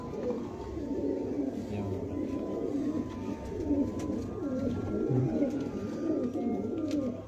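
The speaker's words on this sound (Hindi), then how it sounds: "हाँ जी, टैडी कबूतर है।" Pigeons in a loft cage coo softly and repeatedly in a low, rolling murmur, steady throughout with faint background noise.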